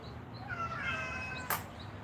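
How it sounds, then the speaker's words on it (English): A mean-tempered cat lets out one drawn-out, wavering meow at close range, followed by a brief sharp noise against a low background hum. "Very hard to love a mean cat."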